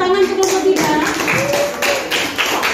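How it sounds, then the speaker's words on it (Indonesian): Applause in a classroom for a student group that has just presented, a mix of clapping and tapping with some voices mixed in, steady and fairly close for a few seconds. "Tepuk tangan ke kelompok"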